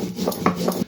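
Roasted cumin seeds are ground by hand on a grinding stone, giving short, close rough rasping strokes in a quick uneven rhythm, heard alone with no voices.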